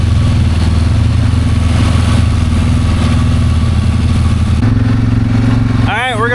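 A tractor pulls an old plow across a field, its engine a loud, steady, close drone with a rhythmic clatter; the pitch shifts slightly near the end, when a faint, rising chirp appears.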